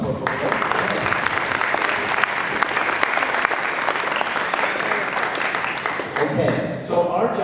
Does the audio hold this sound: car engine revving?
no